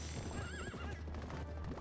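A horse whinnies with a wavering, rising-and-falling cry in The Legend of Zelda: Twilight Princess, over clip-clopping hooves and steady game ambience, with no talking.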